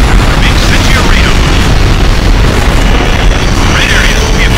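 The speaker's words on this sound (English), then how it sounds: "Railgun fire incoming! It's covering the sky!" Railgun fire in the video game Ace Combat Infinity: a loud, dense, continuous barrage of booming explosions and rumbling blasts with no break, with voices mixed into the din.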